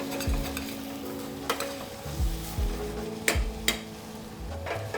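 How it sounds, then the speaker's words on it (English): A utensil scrapes and stirs tomato puree cooking in a pan for a beef ox cheek casserole, giving soft repeated strokes over a low sizzle, with a few sharper taps against the pan. "Give that 3 or 4 minutes with the tomato puree in and keep stirring it"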